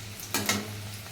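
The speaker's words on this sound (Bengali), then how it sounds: "কড়াইতে তেল দিয়ে কাঁচা লঙ্কা তেজপাতা দিয়ে দিলাম।" Green chillies and bay leaves fry in oil in a wok, a faint low sizzle with two brief louder crackling bursts as they are stirred.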